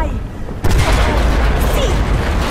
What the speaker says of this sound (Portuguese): Duas explosões.